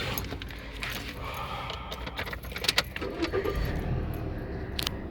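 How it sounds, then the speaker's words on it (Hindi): Keys jangle and a car's engine starts near the Muridke rest area off GT Road, Gujranwala, with sharp clicks and a low rumble swelling beneath steady background noise, no talk. "ये हमने गाड़ी स्टार्ट कर ली।"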